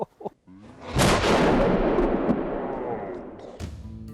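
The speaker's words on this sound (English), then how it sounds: "she'll be fired. Because it's going to be a recoil and quite a loud bang" A replica cannon fires near Modbury with one loud, close bang followed by a long rolling rumble that slowly fades, with brief human voices just before and after the shot.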